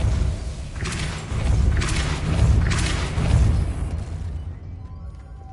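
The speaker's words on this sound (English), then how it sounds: "Lumos. Depulso." Depulso spells cast in the Hogwarts Legacy video game: three loud, booming magical blasts in quick succession, each a dull thumping burst with a rushing crackle, fading to quiet at the end.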